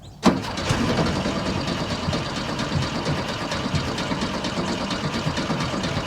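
An old VW Beetle engine cranks and catches almost at once, then settles into a steady, rattly idle that stays loud for several seconds.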